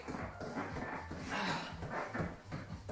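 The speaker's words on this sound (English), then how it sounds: "Dog." A dog pants close by in quick, rhythmic breaths with faint whimpering, heard alone at low volume for a few seconds.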